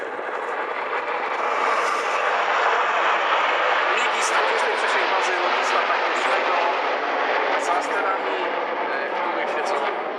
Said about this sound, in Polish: Popatrzmy na przepiękne sylwetki, na cudowne samoloty MiG-29 właśnie nad nami.